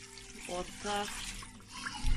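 Tap water pours into a pot while making Cameroon-style chicken and potato pepper soup, a steady running splash in a home kitchen, with speech and faint background noise from children nearby.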